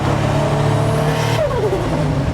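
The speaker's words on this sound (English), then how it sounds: "My God, she was just about to open the wastegate." A 500 hp Toyota Cresta engine revs hard from inside the moving car, a loud, steady drone that drops sharply partway through as the wastegate opens and the pitch falls away.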